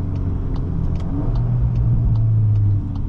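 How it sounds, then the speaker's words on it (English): A 2024 VW Golf R with a DSG gearbox drives on back roads, its engine rumbling steadily as a series of small, sharp exhaust pops and crackles sound over the drone. "A little pop, crackly pop."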